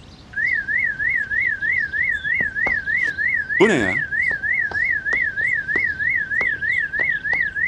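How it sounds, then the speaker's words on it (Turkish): An alarm goes off on a handbag, a loud warbling electronic siren that rises and falls in a steady rapid cycle and runs continuously, with a voice briefly asking a question partway through. "Postanızın alarmı. Postamın alarmı da mı var?"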